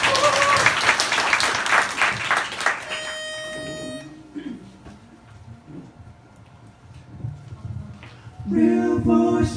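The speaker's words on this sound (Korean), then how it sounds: "다시 한번 박수 부탁드리겠습니다." Audience applause at a Christmas joint concert in a bar, a dense burst of clapping at the start that gives way to tonal beeps, a quieter stretch with faint voices and a hum, then loud, bright sound returning at the end.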